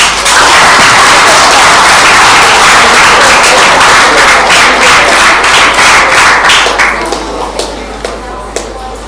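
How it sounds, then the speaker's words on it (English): Loud, close applause from a career fair audience welcoming a chef, with dense crisp claps and some voices, tapering into a few scattered final claps near the end. "Let's welcome him with a big round of applause."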